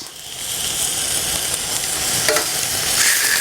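Honeycomb-cut pork belly fries in a frying pan with a loud, continuous sizzle and crackle that holds steady throughout, with no voices.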